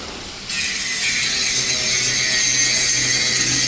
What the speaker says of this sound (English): grinding the paint off now